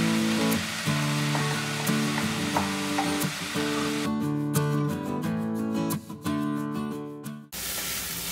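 Val beans are tipped into frying onion with ginger-garlic paste in a home kitchen pan, bringing a steady, loud hiss and crackle of sizzling oil under a continuous tonal background.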